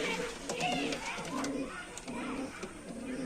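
Pigeons coo and flutter nearby in a loft as the birds crowd toward their compartments, soft repeated coos overlapping with faint background voices.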